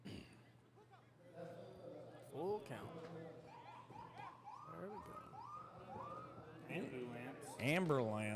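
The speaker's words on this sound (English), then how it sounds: "Ambulance going by." An ambulance siren passes by a baseball game, its wailing tone rising and falling above steady background noise and growing louder toward the end, with crowd sounds and talk under it.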